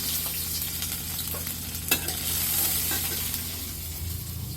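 Chopped onion and garlic sizzle steadily in a pan for a traditional Chittagong fish curry, with scraping stirs and a sharp clatter of the spoon near the middle, close and continuous.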